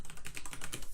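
Fast typing on a computer keyboard, a quick run of about a dozen close, crisp key clicks in an even rhythm.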